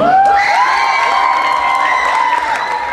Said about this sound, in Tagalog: Parang ang hihina ng palakpak natin.